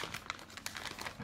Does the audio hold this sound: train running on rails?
no